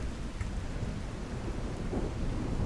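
Heavy, continuous rain with low thunder rumbling through it, a dense stormy wash in Skyrim that stays at an even, fairly loud level throughout and has no voices.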